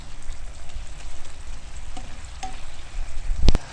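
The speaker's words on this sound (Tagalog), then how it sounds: "haluin natin ulit yung aking tomato" Tomato frying in a pan gives a steady close sizzle, stirred with a spatula, a sharp scrape near the end, no talk.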